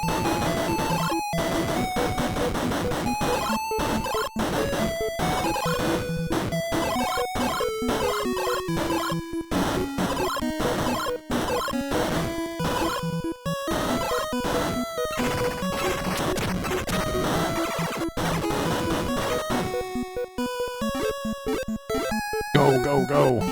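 Retro Gradius video game sound effects: a busy, steady stream of chiptune blips, tones and rapid synthetic shots layered over game music, continuous and moderately quiet.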